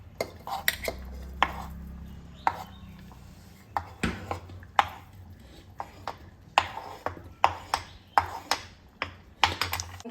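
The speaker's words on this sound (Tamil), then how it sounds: "இதை வந்து நான் ஒரு பவுலில் வந்து ட்ரான்ஸ்ஃபர் பண்ணுறேன்" Cut boiled potatoes being moved into a bowl, with a string of close, sharp clinks and taps of a utensil against dishware, irregular and separated by quiet gaps.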